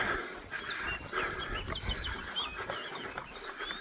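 A dog worn out from a 9-mile hike on a wilderness trail pants rapidly and rhythmically nearby, the breathy huffs continuing steadily while birds chirp in the background.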